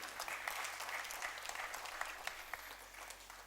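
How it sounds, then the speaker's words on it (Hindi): Audience applause for Yogita at a literary and journalism award ceremony, a fairly quiet, continuous patter of many clapping hands that holds steady throughout. "योगिता जी के लिए एक बार तालियों के साथ अभिनंदन।"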